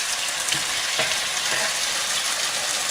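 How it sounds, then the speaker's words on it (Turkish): Potatoes, onion, green pepper and chopped tomato sizzle steadily as they are stirred and fried in a pan, with a broad hiss and a few soft utensil scrapes near the start. "Bu malzemeyi karıştırıp tekrardan bir miktar kavuruyoruz"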